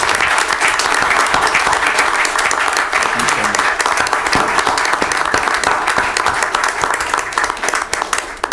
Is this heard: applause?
yes